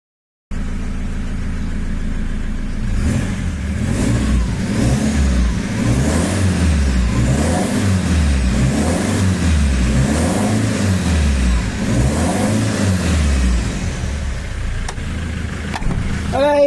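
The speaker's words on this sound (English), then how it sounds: "Está a fazer barulho que não tem o escape ainda ligado" Land Rover Defender engine with an upgraded turbo, running with its exhaust not yet connected, sounds loud and raw as it rises and falls in repeated revs over a constant idle rumble, close up, with no talk.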